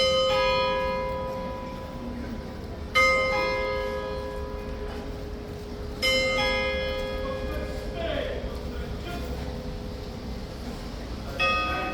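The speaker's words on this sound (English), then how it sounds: "There's the bell." Bell strikes ring out three or four times at roughly three-second intervals, each with a bright harmonic attack and a long sustained ring, over a steady outdoor crowd murmur, with faint voices in the background.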